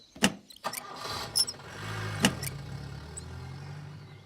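A car engine starts with a short crank and catches, settling into a low, fairly faint idle that continues steadily, preceded by a couple of sharp knocks like a door closing.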